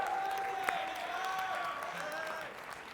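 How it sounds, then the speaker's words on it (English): Audience applause greets the two casters at an esports tournament event in Las Vegas, a steady wash of clapping and crowd noise lasting throughout at moderate level, with tonal hum in the background. "Let's give them a big round of applause, sitting there looking so handsome."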